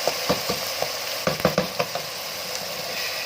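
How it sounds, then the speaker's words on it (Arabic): Calamari and tomatoes are stirred while frying in a pan, with a steady close sizzle broken by several quick scraping strokes. "نقلب بقى كويس قوي كده"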